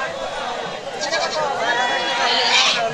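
Native goats bleating at a busy goat market, several overlapping calls rising over a steady crowd murmur and nearby talking.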